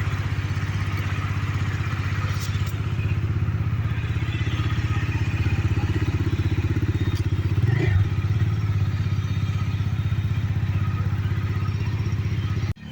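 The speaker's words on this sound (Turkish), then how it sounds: "motor ne zaman ısıyoruz diyecek olanlar motoru ısıyoruz şu anda" A 2023 Bajaj Dominar D250 motorcycle idles steadily while warming up after a cold start, its low engine rumble loud and continuous from start to end with a brief clatter midway.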